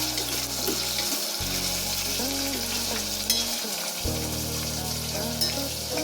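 Sliced onions fry toward brown in hot oil for a mutton paya soup, giving a steady, close sizzle with stirring scrapes throughout, and a low background hum shifting under it.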